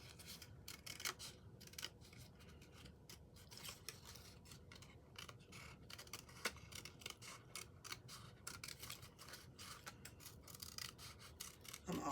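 Scissors cutting through paper along a black line for a papercraft octagon box, a quick run of small crisp snips and rasping cuts repeating unevenly, close and quiet with no talking.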